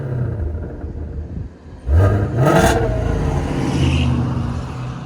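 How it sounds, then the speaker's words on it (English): With its exhaust valves closed, a Ford Mustang GT350 5.2L V8 with resonator delete and X-pipe idles with a low rumble, gives one sharp rev, then drops back to a deep idle. "That's valve closed now."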